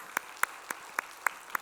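A handful of sharp claps spaced roughly evenly, six quick isolated hits rather than a full crowd's applause, moderately close.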